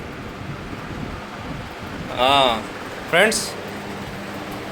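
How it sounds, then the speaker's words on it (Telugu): A cleaned air cooler's fan runs with a steady, airy whoosh at moderate level, broken briefly by two short bursts of a voice. "ఫ్యాన్ రన్ అవుతుందో చూద్దాం"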